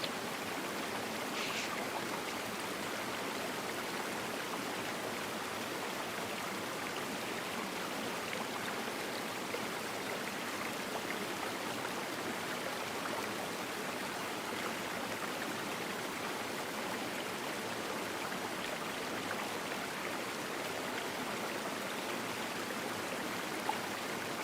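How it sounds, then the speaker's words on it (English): Steady, continuous rush of flowing water like a stream or small waterfall, running evenly throughout as a constant background wash with no talking. "I added some background noise, some moving water"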